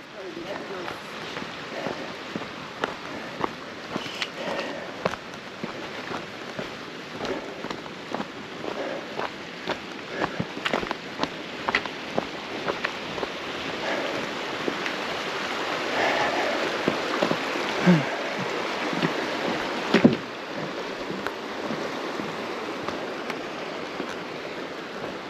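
Mountain waterfall and river in the Ariège on a hiking loop near the Soulcem and Gardelle lakes, a steady broadband rush of water with footsteps and wind buffeting the microphone close by.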